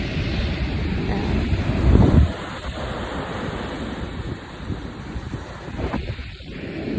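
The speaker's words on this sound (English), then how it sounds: "I'm at the beach." Ocean waves wash onto a beach in gusty wind, a continuous roar of surf with a louder rushing swell early on, heavy wind buffeting the microphone throughout and no voices.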